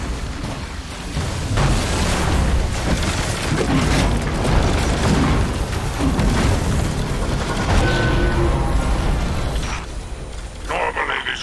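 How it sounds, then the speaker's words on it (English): Heavy cannon blasts and booming explosions from scorch cannons blowing apart shield generators on a pirate barge in Destiny 2, a dense, continuous roar of bursts and rumble with a voice talking over it. "Use the scorch cannons to break their shield generators"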